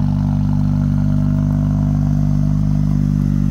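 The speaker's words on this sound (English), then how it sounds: "The initial cold start is loud," A 2023 Chevy Silverado 2.7 Turbomax High Output with a Cherry Bomb muffler idling just after a cold start, its exhaust holding a loud, steady low drone recorded up close, with no voices over it.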